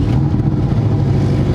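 A Porsche 718 Cayman S fires up and runs, a loud low steady engine rumble close by with a slight flutter and no voices.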